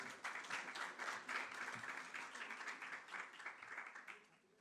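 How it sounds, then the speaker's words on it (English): A crowd applauds warmly for a celebrity guest at a TV food drama show launch event, dense steady clapping lasting several seconds before tapering off at the end. "Please welcome her with a huge round of applause"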